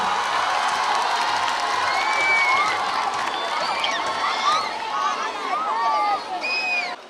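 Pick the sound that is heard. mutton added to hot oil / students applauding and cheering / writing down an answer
students applauding and cheering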